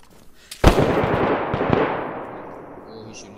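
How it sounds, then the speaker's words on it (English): Gunfire in a PVP video game: a sharp nearby shot followed by a dense burst of rapid firing and a few further cracks, loud and alone, decaying into a faint tail with a voice briefly heard. "Oh, he's shooting."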